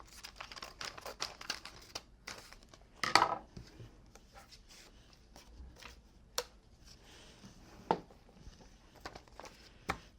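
Small piece of sign vinyl being cut and handled, giving soft, irregular crinkling and snipping noises with a couple of sharper crackles, close and fairly quiet.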